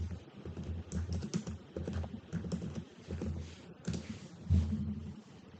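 Typing on a computer keyboard to enter a search, a quick run of soft, close key taps in irregular bursts with short pauses, no voices over it.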